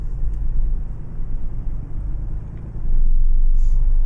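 A car passes in American Truck Simulator, a steady low engine and road rumble that swells louder toward the end as the vehicle goes by, with no talk.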